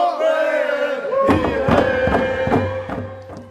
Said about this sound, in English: The sounds of joy from the Huchuklasat tribe, who were celebrating their independence on Wednesday.